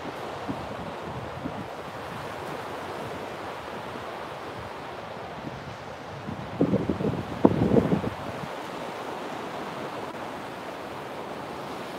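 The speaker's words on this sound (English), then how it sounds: "soak in the colors and the sound of the waves" Ocean waves at sunrise roll in as a steady, broad wash of surf with a slightly stronger swell partway through, no voices over it.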